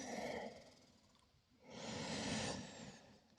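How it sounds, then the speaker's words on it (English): Slow, deep breathing during a yoga pose: a soft breath fades out over the first second, then a longer, fuller inhale or exhale swells from about 1.6 to 2.6 seconds, close and quiet with no talk. "We'll take 4 breaths here."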